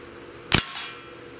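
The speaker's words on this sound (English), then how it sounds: "I want to shoot that can again since we have another round" A Beeman Model 1359 .25 caliber bullpup air rifle fires at a can, one sharp close crack followed by a fainter metallic hit a moment later.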